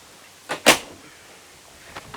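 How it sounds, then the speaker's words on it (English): Two doors of a 1976 Toyota FJ40 slam shut in quick succession, sharp and close, followed by a couple of fainter knocks. "let's shut the doors back up"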